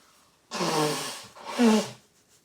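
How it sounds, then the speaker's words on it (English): Someone blows their nose in two forceful, noisy bursts close by, the second ending with a wet honk. "sorry about blowing my nose"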